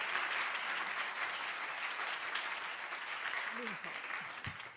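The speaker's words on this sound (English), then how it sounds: "give our judges some preemptive encouragement with a burst of applause" A large audience at a science communication competition final claps loudly and continuously, a dense steady wash of applause that tapers slightly at the end, with a brief voice beneath.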